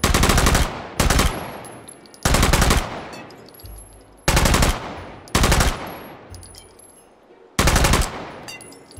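Six loud, sharp bursts of gunfire from a Luger-drum-fed space gun in the VR shooter H3VR, each blast trailing off into echo, spaced irregularly across several seconds with no talking.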